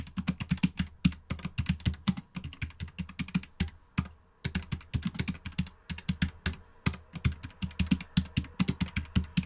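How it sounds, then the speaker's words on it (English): Rapid continuous typing on a computer keyboard, close and clear, dense clattering keystrokes with one brief pause midway, during an online meeting, no voices heard. "Can whoever's typing be on mute?"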